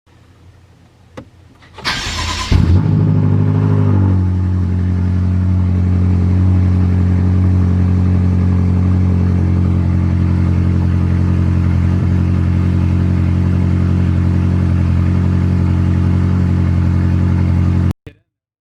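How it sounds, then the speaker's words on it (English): A BMW F10 M5 engine cranks and starts after an oil change, a brief sharp whir and catch, then settles into a loud, steady, low idle hum held close for over fifteen seconds before cutting off. "And then we're going to let the car run for 10 minutes"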